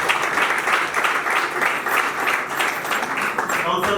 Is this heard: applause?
yes